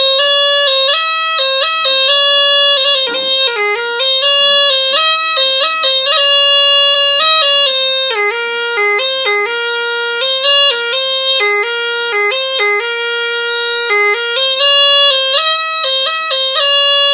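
Pupuik sarunai, a Minangkabau bamboo wind instrument with five finger holes pitched in G, plays a continuous reedy melody alone, steady and fairly loud, with quick stepwise note changes and brief ornaments.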